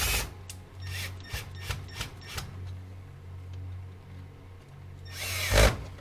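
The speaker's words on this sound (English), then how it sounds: "Then we get to power tools, which will keep me warmer." A power tool works on wood in short bursts, several quick whirring pulses early on and a louder, longer run near the end, with a low steady hum between and no talking.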